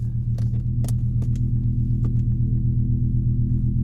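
A BMW M6 with an atmospheric V10 engine gives a deep, steady, close rumble with a throbbing low tone, broken only by a few faint clicks and knocks.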